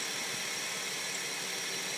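A 2001 Intrepid engine idles steadily after a cold start, a continuous even hum with no talk over it.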